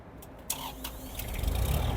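An Iseki Geas 30 mini tractor with a cab and a rotary tiller attached cranks with a few clicks, then its diesel engine catches and builds to a steady, rising rumble, close and moderately loud.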